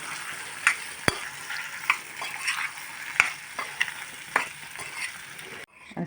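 Sago and potato khichdi stirred in a hot pan, a constant sizzle broken by several sharp scraping and clinking strokes of a spoon against the pan, close and fairly loud.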